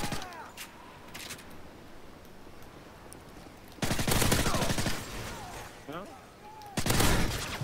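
Gunfire in Call of Duty on the Seatown map, fired from an extended magazine; scattered single shots, then two loud sustained bursts of rapid automatic fire, with other game sounds between and voices talking.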